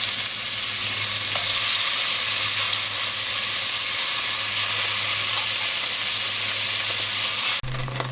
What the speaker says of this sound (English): I'm just going to do this in 2 batches. Just go ahead and sear this on both sides.